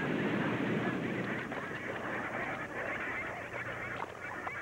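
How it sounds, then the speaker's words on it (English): Rockhopper penguins crowd a desolate rookery near Tierra del Fuego, Argentina, their honking, braying calls overlapping in a steady, busy chorus under faint surf, loud and close throughout. "These rockhopper penguins flock each year to this desolate rookery near Tierra del Fuego, Argentina"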